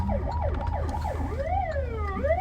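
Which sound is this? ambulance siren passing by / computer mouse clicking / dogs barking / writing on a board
ambulance siren passing by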